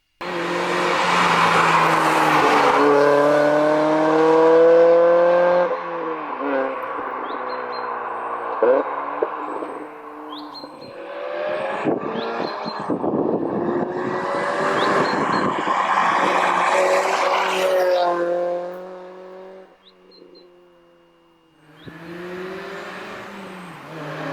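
A Mazda MX-5 concept car engine revs and roars through repeated rising and falling gear pulls, loud and close, with a brief drop before it climbs again.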